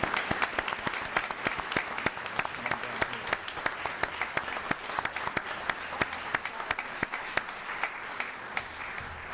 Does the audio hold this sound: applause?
yes